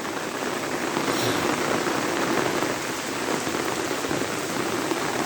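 Steady, heavy rain pours down, a dense even patter of drops hitting surfaces close by, with no voices.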